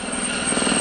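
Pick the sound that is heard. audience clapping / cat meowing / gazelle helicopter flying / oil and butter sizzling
gazelle helicopter flying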